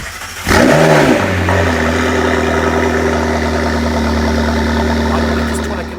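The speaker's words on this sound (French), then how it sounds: "Je vous prie de faire place à la McLaren MP4 12C" A McLaren MP4-12C sports car engine starts with a sharp revving burst, then settles into a steady, loud, close idle.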